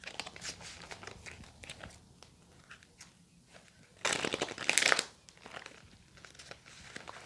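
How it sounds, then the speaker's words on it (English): Tarot and oracle cards being shuffled by hand, soft papery riffling and crinkling in uneven bursts, growing to a louder flurry near the end, close and otherwise quiet. "the cards don't want to shuffle today"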